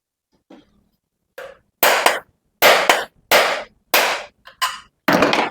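A hammer strikes a puller to work a bearing loose from a ceiling fan, giving about seven sharp, loud metallic blows at irregular intervals with short silences between them.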